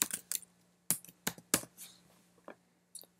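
Someone typing a file name on a computer keyboard: a handful of crisp, close key clicks in short irregular bursts, then a couple of isolated taps against a quiet background.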